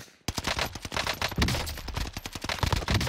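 Rapid, dense automatic gunfire in the video game Warzone, loud and close, with bursts of shots rattling almost continuously after a brief silent start.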